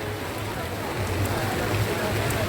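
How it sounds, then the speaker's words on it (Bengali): Heavy, continuous rain pours down steadily over an emptied street around a fair, a dense even hiss with a low rumbling undertone and no clear individual drops. "এখন প্রচুর পরিমাণে বৃষ্টি পড়ছে"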